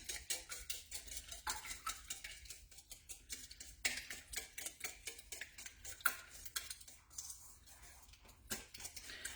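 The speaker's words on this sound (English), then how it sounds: "you can just gently whisk that together" Chicken eggs whisked briskly in a bowl, a quiet rapid run of light clicking, tapping strokes that keeps an uneven rhythm throughout.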